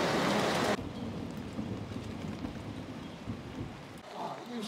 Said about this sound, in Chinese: 今天又下雨来了